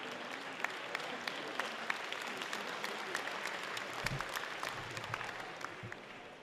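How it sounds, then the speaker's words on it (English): A crowd applauds steadily at an American Chamber of Commerce dinner in Taiwan, the clapping sustained and dense, with scattered louder claps standing out throughout. "Please give a big round of applause to our sponsors"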